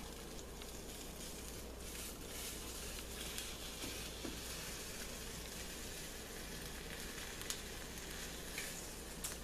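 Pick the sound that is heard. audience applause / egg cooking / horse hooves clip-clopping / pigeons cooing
egg cooking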